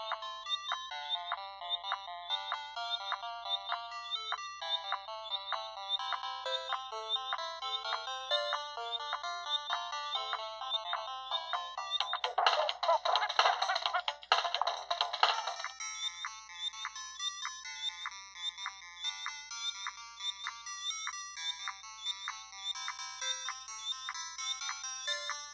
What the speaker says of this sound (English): The SP, like many popular devices in its price range, has a single front-facing speaker, which sounds great to me as long as you're not using it at full volume.